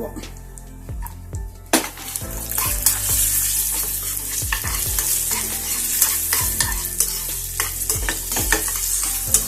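Cashews and raisins roast in hot ghee in a pan, giving a steady bright sizzle throughout. A spoon repeatedly scrapes and knocks against the metal as they are stirred, and faint speech sits in the background.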